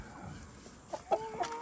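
Chickens and roosters in a farm coop in Kentucky summer cluck in a few short, soft bursts over a low background hum, fairly close but not loud.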